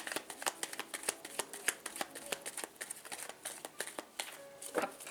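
A deck of cards is shuffled and cut, giving a fast run of crisp riffling flicks and snaps throughout, close and fairly soft, with no voices.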